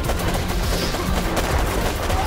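Video-game gunfire from the strategy game Warpips, including a sniper, comes as a dense, fairly loud stream of overlapping shots that runs through the whole moment.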